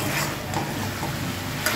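Chicken with chilli powder and salt is stirred in a pot, giving a soft scraping and light sizzle for under two seconds, quiet and close with no talking.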